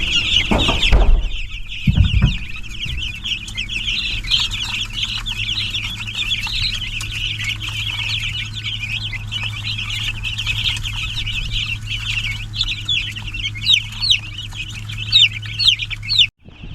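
About 125 chicks crowd a brooder, their shrill, high peeping forming a dense, continuous chorus over a low steady hum, with a couple of brief thumps near the start.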